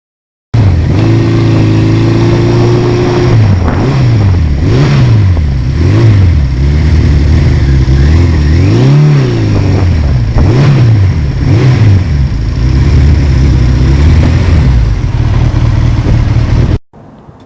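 A 1982 Suzuki GS1100E motorcycle engine, recorded outdoors on a windy day with a remote microphone, revs loud and close from idle, its pitch rising and falling in repeated throttle blips.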